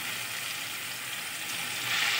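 Taro stolons fry in a pan with tomato, giving a continuous, even sizzle close by that swells slightly toward the end.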